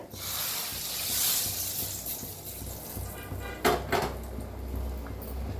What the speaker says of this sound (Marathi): आता मस्त फोडणी झालेली आहे गॅस करूया बंद आणि फोडणी ह्याच्यावर ओतूया